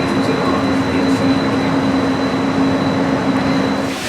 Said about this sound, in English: We're just about to get the monorail from downtown Disney into the park.